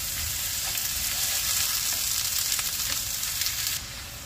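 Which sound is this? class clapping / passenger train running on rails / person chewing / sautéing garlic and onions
sautéing garlic and onions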